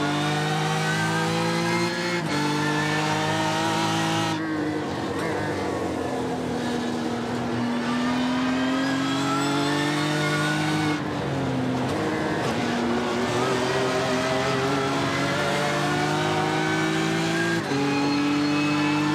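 A BMW M4 GT3 race car in a sim racing Nürburgring endurance event drones steadily and loudly throughout, its engine pitch rising and falling through gear shifts as other cars blend in.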